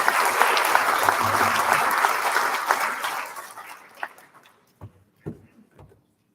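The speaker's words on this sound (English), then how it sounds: "let's give one last big round of applause for these silver award winners" Loud applause from an audience, steady for about three seconds before thinning into scattered final claps and fading out.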